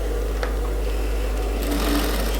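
A sewing machine runs a short stitch on a women's suit, a close, steady hum lasting a couple of seconds over a low background drone.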